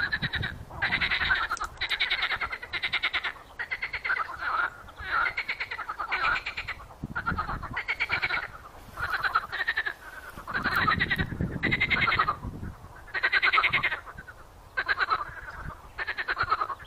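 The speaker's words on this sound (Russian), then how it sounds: "Квакают лягушки." Frogs croaking in repeated, overlapping bursts at small marshy pools in Yoshkar-Ola, a steady chorus of raspy calls close by with brief gaps between phrases.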